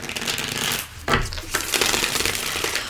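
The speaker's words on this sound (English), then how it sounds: "As I'm shuffling these clarifiers" Tarot cards shuffled by hand, a close papery riffling and slapping that comes in bursts with a brief pause partway through, with no talk over it.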